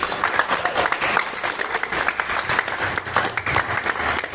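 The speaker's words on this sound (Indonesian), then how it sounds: "Beri tepuk tangan dulu untuk." Steady applause from a crowd, sustained clapping with no break, fairly loud and close.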